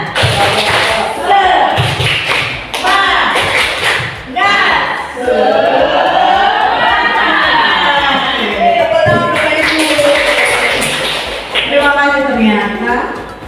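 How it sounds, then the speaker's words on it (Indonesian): Group of adults at a school staff session doing a rhythmic spirit clap, loud sharp claps in patterned bursts with a leader's voice and group chanting woven in. "Tepuk semangat."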